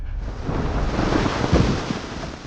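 Loud surging water whoosh used as a transition in a film teaser, swelling broadly and rolling with a low rumble, heard alone without speech.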